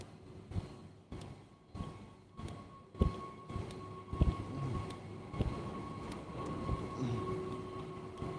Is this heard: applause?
no